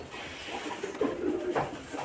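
Giribaz pigeons coo softly and close by in low, rolling murmurs over a quiet background.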